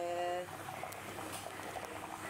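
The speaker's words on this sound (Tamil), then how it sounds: "இட்லிக்கு தொட்டுக்கிற மாதிரி கொஞ்சம் தேங்காய் பால் ஊற்றி கொதிக்குது" A pot of coconut milk curry bubbling at a low boil, soft irregular blips and gurgles over a quiet hiss, following a short tonal hum at the start.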